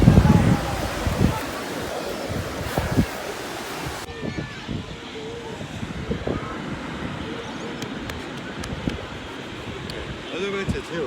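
Ocean waves wash onto a sunny beach, a steady broadband surf roar with some wind buffeting the microphone, louder in the first seconds then settling into a continuous wash.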